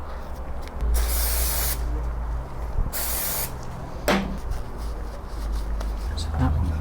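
Lubricant is sprayed onto bolt threads during a Suzuki GSX-R1000 motorcycle rebuild, heard as two short, close hissing bursts of aerosol with faint handling noises between them.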